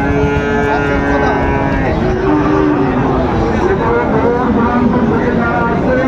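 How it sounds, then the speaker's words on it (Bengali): Sahiwal cattle mooing at a busy livestock market in Dinajpur, loud drawn-out moos layered over constant crowd chatter and bargaining voices. "শাহিওয়ালার গরুগুলো"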